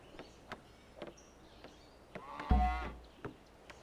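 Cattle mooing in the video game Civilization 5, a single loud low moo rising out of quiet ambient game sound with soft clicks and faint bird chirps.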